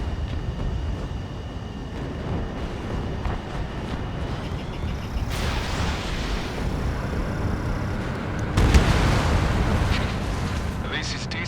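Explosions of destroyed targets in the Ace Combat 7 air combat game rumble loudly over continuous jet roar, with a broad blast near the middle and a heavier boom toward the end, and voices speaking beneath.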